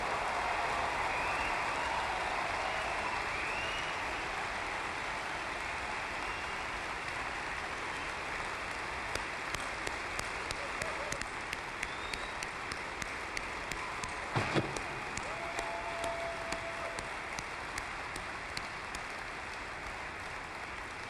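A packed conference hall of thousands of AIPAC supporters applauds in a dense, continuous wash of clapping that holds steady and far-reaching for the whole stretch, with a few sharper claps standing out later.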